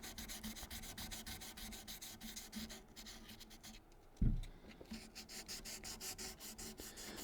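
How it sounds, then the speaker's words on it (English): Quiet, rhythmic rubbing strokes as guitar frets are polished scrape back and forth steadily, close and soft, with a brief pause and a small knock partway through. "it's a polish for it's not a sanding your frets off. It's just polishing them."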